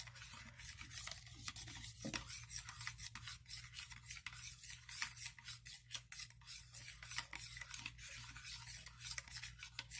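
Salt and vinegar mixed for cleaning pennies, stirred in a container with a steady, gritty scraping and clinking that repeats in quick strokes for the whole stretch, fairly close and fairly quiet.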